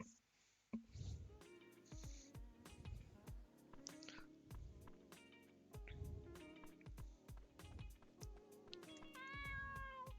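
A cartoon cat meows repeatedly in the video game Dave the Diver, several short near meows over busy game music and effects, with some talk in the background.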